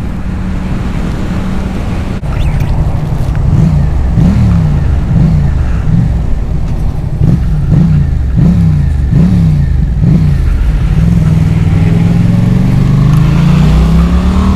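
A Yamaha MT-07 motorcycle accelerates on a test ride, its engine note rising and falling through repeated gear changes, then climbing steadily under constant loud wind rush.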